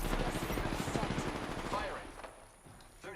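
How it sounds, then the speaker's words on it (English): Enemy gunfire in a video game: dense, rapid automatic bursts for about two seconds, then thinning out over other game sounds. "The enemies are shooting at me."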